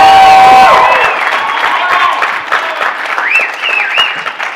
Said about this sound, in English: I'm hearing a lot of applause.